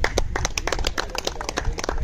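An audience at a volleyball tournament opening ceremony claps in dense, lively applause. The clapping is close and fairly loud, and it keeps up steadily throughout.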